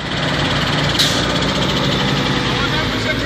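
Excavator engine straining as the bucket lifts with a person riding on it, a loud steady diesel roar with vibration close by throughout, a voice briefly calling over it.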